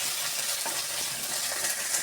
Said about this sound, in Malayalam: ഇടിച്ച കറച്ച് വെച്ചേക്കണം ഉള്ളി ഇട്ട് കൊടുത്ത് നമുക്കൊന്ന് നല്ലോണം ഒന്ന് ഇളക്കി